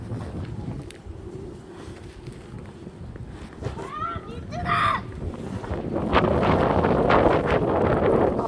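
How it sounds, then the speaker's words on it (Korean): Strong gusty wind in a snowstorm buffets the microphone outdoors, a constant rushing roar that grows louder toward the end, while children's and an adult's voices talk and call over it. "맞바람일 때 뒤로 돌아서 좀 기다려 바람이 잠잠해질 때까지"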